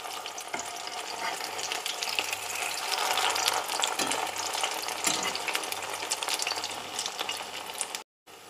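Corn cutlets fry in a pan with a steady, close crackling sizzle that holds throughout and cuts out briefly near the end; no one speaks.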